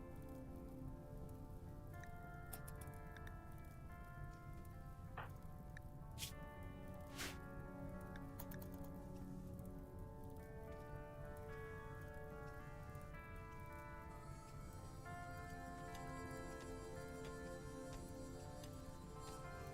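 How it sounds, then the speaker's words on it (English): Rain falling in the video game RimWorld, a dense, steady hiss of drops pattering on surfaces, constant throughout with a few brief, brighter ticks and no talking. "Okay, there's the rain."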